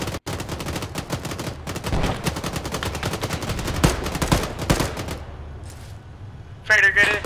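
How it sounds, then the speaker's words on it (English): Rapid gunfire in Arma from distant shooters to the west, sustained volleys of sharp shots for about five seconds, then quieter with a voice briefly heard. "shots from the west"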